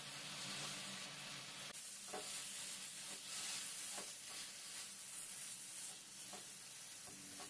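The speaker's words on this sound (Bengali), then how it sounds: "নাড়তে নাড়তে দেখুন বন্ধুরা, সন্দেশের রস অনেকটাই শুকনো হয়ে গেছে।" Mango kalakand sandesh mixture being stirred as it thickens in a pan, a dense continuous sizzle and hiss with soft rhythmic scraping strokes throughout, close and steady, with no talking.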